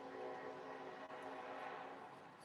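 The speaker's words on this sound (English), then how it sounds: "That is a freight train, if I've ever heard one." Freight train passing nearby on a road trip stop, a steady rumbling roar with sustained horn-like tonal bands throughout, loud and continuous without speech.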